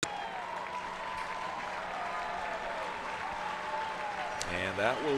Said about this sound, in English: And a round of applause from the Maine fans.